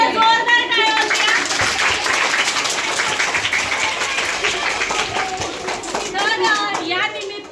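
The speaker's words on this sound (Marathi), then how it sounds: "एकदा जोरदार टाळ्या वाजवा" Applause from a teachers' audience at a Marathi Language Day quiz event, a sustained dense clatter of many hands lasting several seconds, loud and steady, with voices mixed in.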